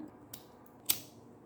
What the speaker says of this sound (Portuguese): agora vou cortar